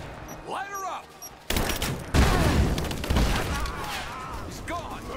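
Sustained gunfire fills a battle in the video game Rise of the Tomb Raider, with loud bursts of rapid shots after a quieter opening and shouting voices over the shooting.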